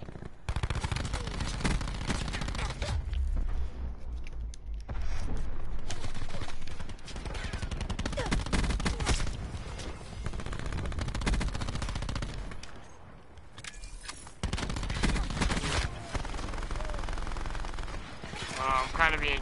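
A sentry turret in Black Ops 4 fires in long sustained bursts of rapid gunfire, loud and close, with short gaps and other game sounds mixed in, while voices talk throughout.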